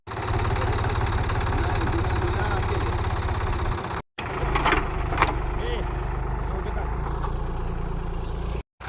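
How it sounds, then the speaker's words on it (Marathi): A tractor hauling soil in a farm field runs with a steady, rumbling engine drone that is loud and continuous, broken by two brief dropouts. "ट्रॅक्टर आता माती सारं आणायला लागला इकडे"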